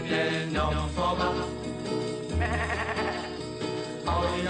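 A children's song about farm animals, with voices imitating a goat's bleat in several drawn-out, wavering cries over a steady musical accompaniment, loud and continuous.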